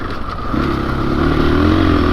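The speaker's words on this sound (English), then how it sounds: "Let's ride this bike the way it's meant to be ridden" A KTM motorcycle engine runs close by with a steady, loud drone that rises slightly in pitch partway through and then holds.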